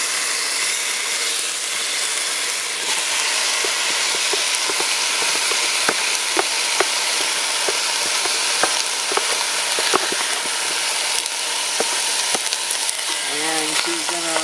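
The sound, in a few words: brown sugar sizzling in a pot for coconut beef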